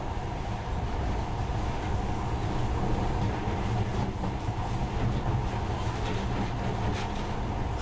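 A monorail train runs in the video game Metro: Last Light, producing a loud, continuous rolling rumble with rattling and faint clickety-clack, steady throughout without speech.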